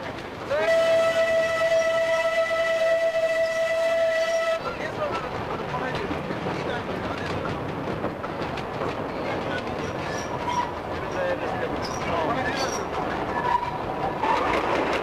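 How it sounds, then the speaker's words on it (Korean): A Darjeeling train pulls away from a misty station. It opens with a loud, sustained whistle blast, then rumbles steadily with rattling carriages and clattering wheels, while a voice narrates over the noise. "안개에 쌓인 구음역을 뒤로하고 기차는 다음 목적지를 향해 떠난다."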